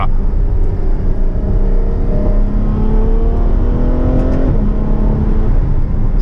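A Ferrari V12 revs hard with its exhaust valves open, a loud, close, rising engine tone that climbs steadily, briefly dips around a shift, then keeps pulling, with no talking over it.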